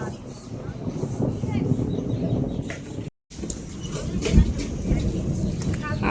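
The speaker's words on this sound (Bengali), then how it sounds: "বৃষ্টি হচ্ছে, তারা বৃষ্টি মাথায় চলে যাচ্ছে।" Steady rain falls outdoors beside a house and a playing field, a dense, even hiss that runs throughout, broken only by a brief dropout midway.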